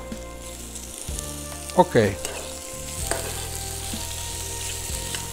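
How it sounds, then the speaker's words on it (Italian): Potatoes sizzle as they go into a hot pan with turbot, a steady close frying hiss with bursts of stirring clatter and one short spoken word. "Perfetto, adesso mettiamo dentro le patate."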